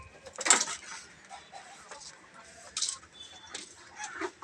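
A backyard hen clucks in short, scattered bursts, close by, amid light scuffling and other poultry including ducks, with quiet gaps between calls.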